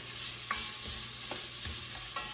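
Chopped vegetables cook down in a pot for white chicken bean chili, giving a steady low sizzle with a few soft stirring clinks and scrapes, fairly quiet and continuous.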